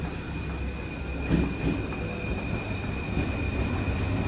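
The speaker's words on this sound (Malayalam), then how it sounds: "നമുക്ക് പോകേണ്ട മെട്രോ വന്നിട്ടുണ്ട്." A Paris metro train pulls into a crowded station with a loud, steady rumble of wheels on rails, a thin high squeal running through it and a bump of clatter as it rolls in, with no voices.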